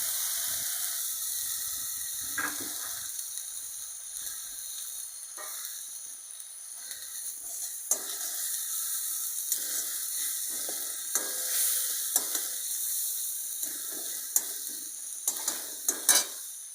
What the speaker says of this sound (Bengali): এবারে দিয়ে দিচ্ছি আদা বাটা আর ছেঁড়া কাঁচা লঙ্কা